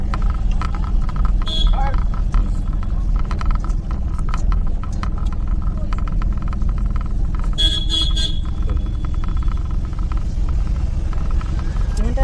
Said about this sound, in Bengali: হর্ন এইসব রাস্তাতে প্রচুর হর্ন ইউজ করতে হবে